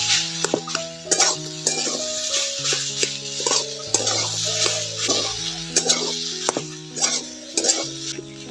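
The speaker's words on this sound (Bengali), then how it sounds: "ভেজে রাখা সবজিগুলো দিয়ে দিচ্ছি, নারকেল কুচি, সবগুলো একসঙ্গে ভালো করে মিশিয়ে নেব।" Fried vegetables and grated coconut for a Medinipur-style chop filling are mixed in a pan, giving rhythmic scraping and clinking strokes with a light sizzle, over steady background music.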